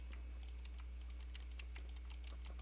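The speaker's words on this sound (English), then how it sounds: "Now do K on your keyboard and click this button right here." Computer keyboard keys clack in a quick, irregular run of light taps, fairly close but quiet, over a strong steady low hum.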